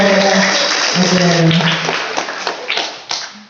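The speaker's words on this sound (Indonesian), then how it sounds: "Sudah, tepuk tangan dulu buat cewek." Audience applause for a student at a vocational school talk show, scattered clapping that thins into a few separate claps near the end, with a voice and background talk audible early on.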